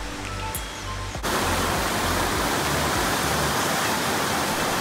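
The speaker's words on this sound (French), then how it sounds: "Et voici la cascade d'eau qui est d'ailleurs visible depuis un des onsen" A waterfall at Lamp no Yado Aoni Onsen in Japan roars as a steady broadband rush of falling water that sets in abruptly after a quieter opening and holds loud and unbroken.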